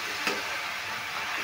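A vegetable filling for ghutke kachori frying in a pan, with a steady close sizzle and a brief stirring scrape as a little water is added, no voices.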